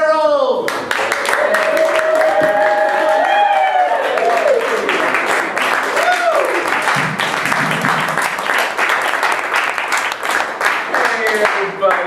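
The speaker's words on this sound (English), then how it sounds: "thank you for clapping, that's polite" Audience at a Washington Improv Theater show clapping and cheering as a performance team is introduced, loud continuous applause with whoops and shouts mixed through, while a voice talks over the crowd.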